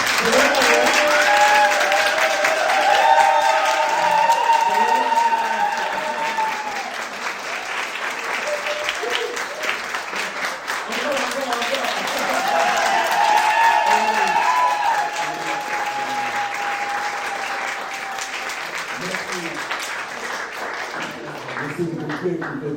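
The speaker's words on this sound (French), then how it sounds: "On va vous applaudir très fort." A church congregation applauds the mothers during a service, long waves of clapping that swell, ease slightly and rise again, with cheers and voices mixed into the crowd noise.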